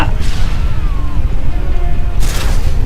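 A grenade blast in Call of Duty Modern Warfare 2 gameplay, a loud booming crash followed by sustained rumbling debris and a second burst near the end, all close and dense.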